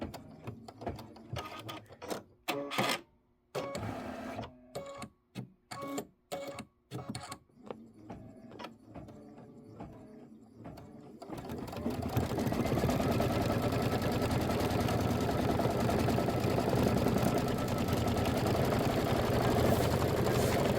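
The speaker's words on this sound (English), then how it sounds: "we're going to satin stitch in the white" An embroidery sewing machine satin stitches in white thread on a quilt block, first with a rapid, stuttering run of needle strikes and pauses, then settling into a loud, steady mechanical whir close by.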